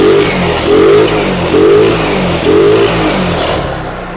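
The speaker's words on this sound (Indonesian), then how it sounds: "Motor sudah hidup." A Yamaha Mio Sport scooter engine running with a worn camshaft, its loud idle rising and falling in repeated surges about once a second, with a rough mechanical clatter underneath.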